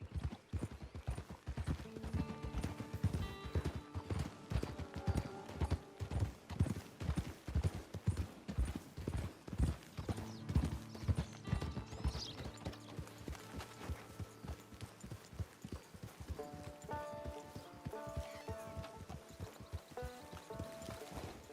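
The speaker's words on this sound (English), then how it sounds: "It's your horse." Horse hooves clip-clop steadily in Red Dead Redemption 2, with a brisk regular rhythm of close, crisp hoofbeats throughout and faint tonal game sounds underneath.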